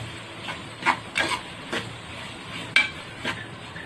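A spoon scrapes and clinks against a pan while ginger paste is stirred for country chicken curry, making irregular knocks and scrapes over a soft background, close and moderately loud.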